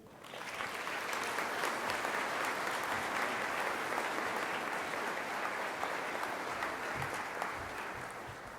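Sustained applause from a graduation audience fills the hall, dense and steady throughout, welcoming a speaker at a Holland College ceremony.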